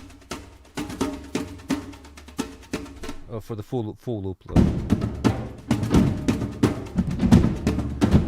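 Loud version of an ethnic orchestra loop at 130 tempo, heavy accented percussion hits in a driving rhythm, with a spoken voice briefly over the start.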